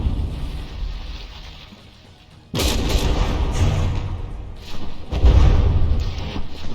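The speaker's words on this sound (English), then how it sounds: "this gun just got hit by some explosions" Naval battle in the game From the Depths: heavy booming explosions and artillery-like gunfire, a deep rumbling blast arriving suddenly after a quieter stretch and another heavy impact soon after, loud and close.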